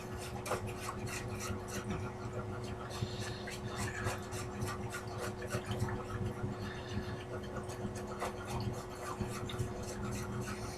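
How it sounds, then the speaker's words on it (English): A whisk scrapes steadily around a pot of mac and cheese sauce, making a fast, continuous rasping rub with a constant low hum underneath. "Keep whisking."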